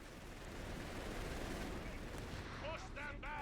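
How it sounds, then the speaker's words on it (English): Battle in Company of Heroes 3 as a grenade lands on a machine-gun position, with a dense, low rumble of gunfire and blasts throughout, and a few sharp tonal effects near the end. "here comes a grenade on the MG"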